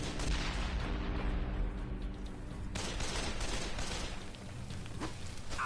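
A grenade blast and a heavy burst of gunfire in the co-op zombie video game Dead Island, with dense rattling shots and booms in a loud, continuous barrage and no speech.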